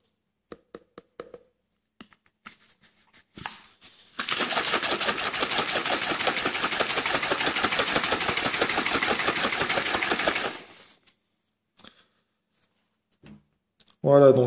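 Myprotein Impact Whey powder, about 30 grams, shaken with roughly 300 millilitres of water in a shaker, giving a loud, steady rattling churn for several seconds, with a few clicks and handling noises before and after.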